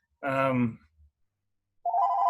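A telephone rings in a brewery business setting. A person speaks briefly, there is a short pause, and then a steady electronic ring tone starts and continues clearly to the end.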